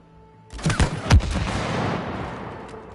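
A few sharp shots ring out in It Takes Two, two close bangs followed by a lingering, fading rumble.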